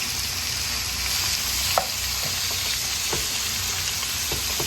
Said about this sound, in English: And just cook it until it's brown all the way up.